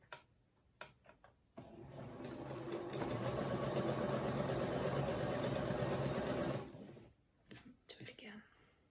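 A sewing machine runs in one steady whirring burst of about five seconds, stitching a seam to join a row of a scrappy granny square quilt, with soft handling clicks before and after.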